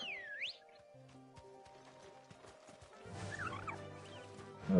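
A chocobo in the video game Final Fantasy XVI lets out gobbling, warbling bird calls with rising and falling chirps, set against soft game music and ambient tones.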